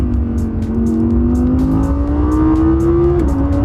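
An Audi R8 V10 Plus engine revs hard and steadily, a loud, continuous howling drone whose pitch climbs gradually before a brief dip near the end, with no voices over it.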